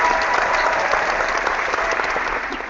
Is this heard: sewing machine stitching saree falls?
no